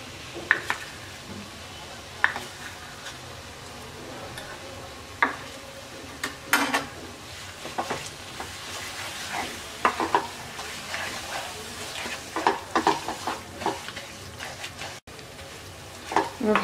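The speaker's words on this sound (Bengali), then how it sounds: "এবার ভালো করে মিশিয়ে নিচ্ছি।" Soft date palm jaggery being stirred into spiced wood apple pickle in a pan, giving irregular scraping and clicking strokes with a faint sizzle running underneath, close and fairly quiet.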